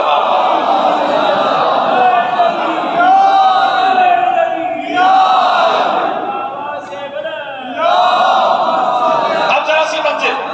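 A congregation at a majlis gathering recites salawat in unison in loud, swelling waves of chanting voices, with several surging phrases separated by brief dips.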